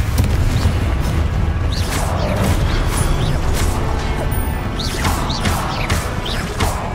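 A fiery Confringo spell blast in the Hogwarts Legacy video game bursts into loud crashing booms and whooshes amid continuous rumbling combat noise.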